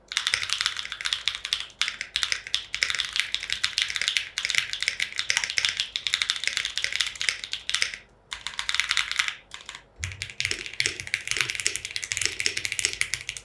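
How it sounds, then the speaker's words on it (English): A custom 65% mechanical keyboard with pre-lubed tactile switches, an aluminium plate and no foam, typed on up close with dense, rapid clacky keystrokes in bursts and a few brief pauses. "For this particular build, I'm using pre-loop tactile switches with aluminium plate and no foam."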